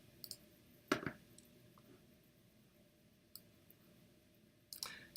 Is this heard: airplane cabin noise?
no